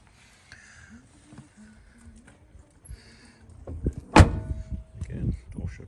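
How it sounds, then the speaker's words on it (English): A car door on a BMW E12 M535i, a South African lightweight saloon, shuts with a single solid thump near the microphone. Low rumbling and light handling sounds follow. "door shut's nice"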